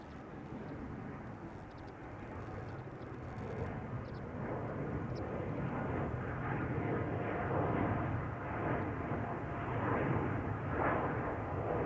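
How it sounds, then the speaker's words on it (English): A KLM Boeing 787-10 in 100-years livery departs Amsterdam Schiphol, up close, its engines a deep, rumbling roar that gradually builds, with faint clicking early on. "this is the 787-10, the KLM 100 years"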